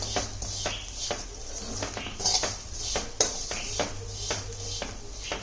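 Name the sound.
stirring poha flakes roasting in a pan on low flame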